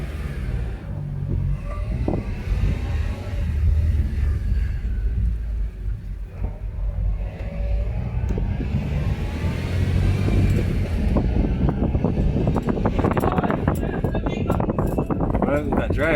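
Acura TSX on a test drive after a front brake pad change, a low engine rumble and road noise inside the car under ongoing talk, with clatter and rattling near the end.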